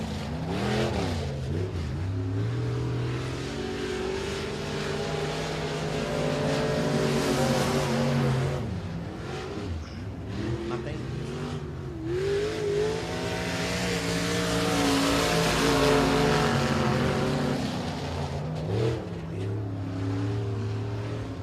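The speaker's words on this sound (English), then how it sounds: "It's Michael King Jr. in the 14 Jr. car" A race car engine at Boothill Speedway time trials, the number 14 Jr. car, roars loudly throughout, revving up and down in repeated sweeping climbs and drops as it laps the track.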